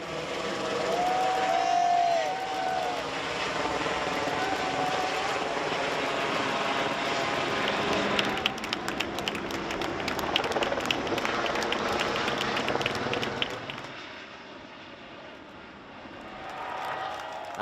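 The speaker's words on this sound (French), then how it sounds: "la version de l'A330, baptisée Neo, décolle devant des Airbusiens et la presse spécialisée" An Airbus A330neo airliner takes off before watching staff and press, a long loud jet roar that holds steady, then thins and fades toward the end, with a faint crowd murmur beneath.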